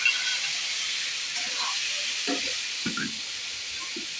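Cooked chicken roasting in a pan with capsicum gives a steady broad sizzling hiss, moderately loud, with faint scattered clinks and stirring sounds on top.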